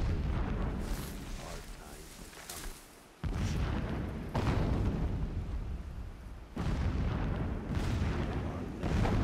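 Heavy blasting explosions rumble in Horizon Zero Dawn, several deep booms with sharp onsets separated by quieter stretches, loud and continuous like distant quarry blasting under ambient game sound.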